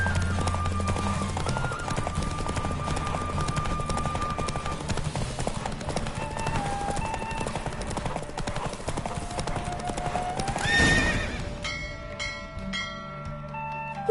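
Horse hooves clip-clop in a rapid galloping rhythm during a race in The Witcher 3, held under steady game music, ending in a brief chime-like flourish.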